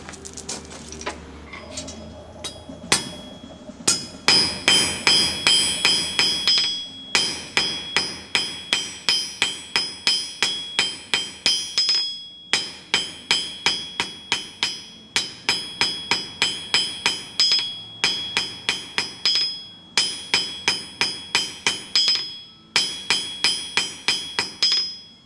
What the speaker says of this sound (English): I'm working my taper right over at the edge of the anvil. That's so that I'm not hitting the anvil so much with the hammer.